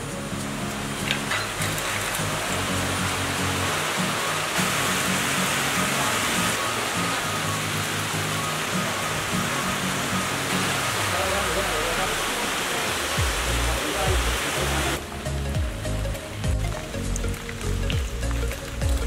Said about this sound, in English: Look, the rain isn't a complete downer.